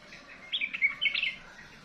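A sooty-headed bulbul (trocok) gives a brief, bright run of chirps nearby among garden flowers and bonsai, the short notes rising clearly over faint background hiss.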